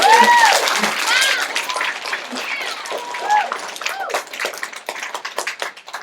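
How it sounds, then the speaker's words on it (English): Clapping from a small group after mention of raising over $2 million for She's The First, a moderately loud patter of hands lasting several seconds, with a few voices and cheers mixed in. "Round of applause for you."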